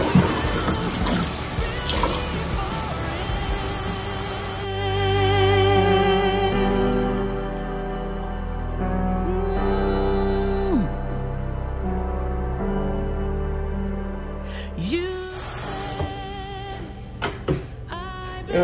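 Water runs and splashes steadily as it is poured into an O-Cedar mop bucket, loud and close, with a hollow filling tone, brief pauses and changes in flow.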